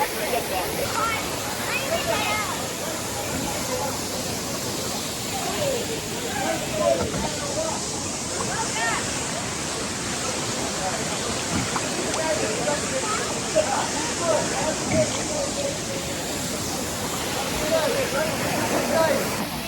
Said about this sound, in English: swim up to the falls